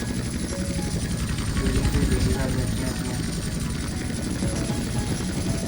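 A helicopter flies over a city in the video game GTA San Andreas, its steady loud rotor thump and engine roar filling the whole stretch without a break.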